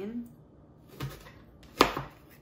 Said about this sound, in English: you can cut this way, like very shallow into the skin, so you can easily peel off that skin off of the onion